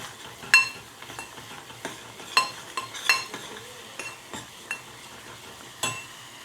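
Masala for a Gujarati bitter gourd dish cooking in a pan, with a spoon scraping and clinking against the metal in irregular strokes over a faint sizzle, close and clear with no talking.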